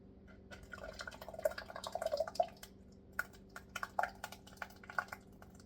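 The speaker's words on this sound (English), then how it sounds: "And you just start pouring your sauce in." Homemade oven-roasted pasta sauce pours into a bag on a kitchen scale, giving faint, irregular wet drips and small splats with soft clicks, quiet and close.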